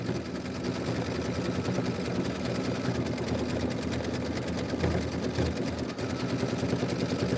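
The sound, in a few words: sewing machine stitching an embroidery design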